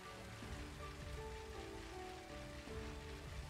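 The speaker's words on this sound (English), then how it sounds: "It's raining." Steady rain from the video game Pokémon Shield, a dense continuous hiss of drops on the ground with soft game tones underneath, even in level throughout.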